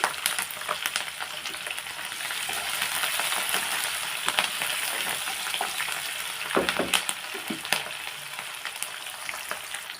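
Curry leaves and green chilies fry in hot oil for a tomato and mint chutney, giving a continuous close crackling sizzle with scattered sharp pops and stirring scrapes.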